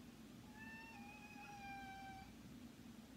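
A house cat gives one long, drawn-out meow that holds steady and clear for about two seconds in a quiet indoor room, with a low steady hum underneath and no talking.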